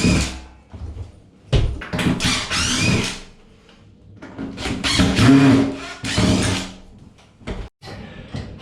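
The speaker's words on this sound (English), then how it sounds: "so we'll get those screws out and see how easily they come off" Screws being worked out of a shower door's wall profile, with intermittent grinding, rubbing and scraping bursts separated by brief quiet gaps, close and fairly loud.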